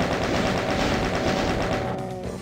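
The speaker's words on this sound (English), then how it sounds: "Just chain gun you." Sustained rapid-fire chaingun bursts in Doom 2, loud and continuous with a dense mechanical rattle, tapering off slightly near the end.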